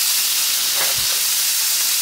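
A pot roast searing in a hot pan: a loud, steady broadband hiss of sizzling fat, continuous and close, with one soft low knock midway.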